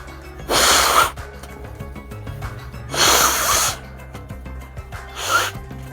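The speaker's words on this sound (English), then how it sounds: "I need to blow my nose again." A person blows their nose three times in close succession, each a loud, breathy honking burst lasting under a second, separated by quieter pauses.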